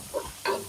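Tomatoes sauté in a pan as a soft sizzle with two brief stirring scrapes, quiet and close, no voices.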